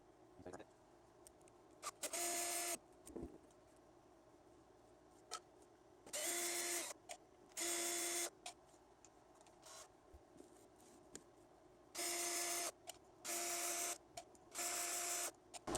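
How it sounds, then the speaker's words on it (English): Bolts are backed out of an HPI Savage XS Flux RC car with a small electric driver, several short whirring bursts separated by quiet gaps, close and moderately loud. "then we should just pull these bolts out, and that should do it"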